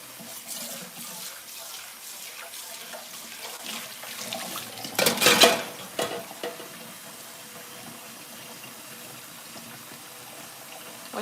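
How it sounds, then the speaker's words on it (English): Dishes being washed under a running kitchen tap, a soft steady trickle with clinks and a louder splashing burst midway, close by and fairly quiet. "So someone told me to wash these dishes, so then I wash them."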